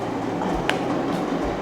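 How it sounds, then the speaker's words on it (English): A train rolls past close by in a brief, steady rumble with a rattling clatter of wheels and a short high squeal near the middle. "there's a train going by."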